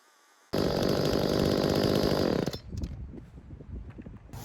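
A two-stroke petrol engine working under load, bursting in with a loud, raspy high-revving buzz for about two seconds, then dropping to a rougher, sputtering lower speed.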